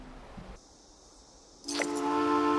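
Steam locomotive whistle in the video game Fallout 76, a loud sustained tonal blast that starts abruptly after a quieter stretch of ambient game sound and holds steady to the end.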